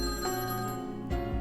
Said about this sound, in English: the silence was broken by the sound of the phone ringing.